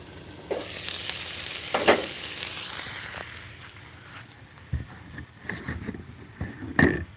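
Burgers sizzle softly on a biogas stove, a low steady frying hiss broken by scattered clinks and scrapes of handling, with no talk.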